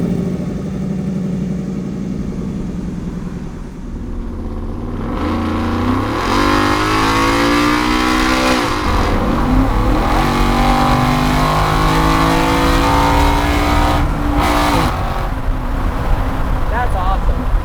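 A 1967 Ford F100 pickup with a swapped Coyote V8 accelerates, its engine note climbing through rising revs and gear changes, loud and close from inside the cab, with voices talking over it.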